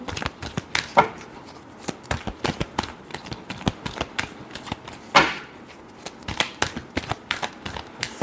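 Tarot cards are shuffled by hand, giving a close, steady run of crisp riffling snaps and soft slaps in uneven bursts, with no talking.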